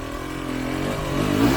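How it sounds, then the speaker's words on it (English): A hard enduro motorcycle pulls away gently on loose off-camber ground, its engine holding a steady low drone that swells slightly as it moves off, close and alone. "Listen to my bike as I take off."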